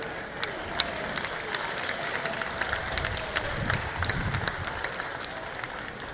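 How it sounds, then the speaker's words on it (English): A crowd at Clinton Raceway applauds the drivers at a season-ending event, with scattered sharp claps over a broad, steady outdoor crowd noise and a low rumble, fairly distant. "Let's give one more big round of applause for all the drivers."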